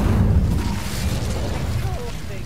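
Incendio fire spell cast in Hogwarts Legacy, a sustained, rumbling whoosh of flame with booming low-end bursts lasting a couple of seconds, with a voice in the background.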